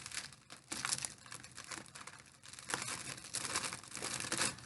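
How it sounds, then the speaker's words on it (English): Dollar-store ribbon being cut for a basket, heard as crisp crinkling and snipping rustles that carry on unevenly and close up, faint overall, with no talk. "Let's cut our ribbon like this."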